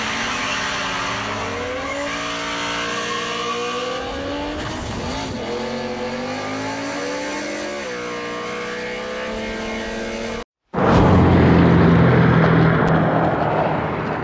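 Ninebot KickScooter ES2 electric kick scooter on a test ride with an external battery fitted, a steady whine rising and falling in pitch over wind noise, then a brief cut and louder rushing wind.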